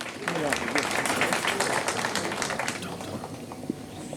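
An audience at an award ceremony at a fuel filling facility applauds as the mayor is invited up, a dense steady patter of many hands filling the space, with voices murmuring underneath.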